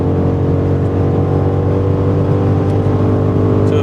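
A 2025 BMW M5 Touring accelerating hard on the autobahn, its engine drone steady and loud from inside the cabin, with a continuous low rumble and road roar and no talking.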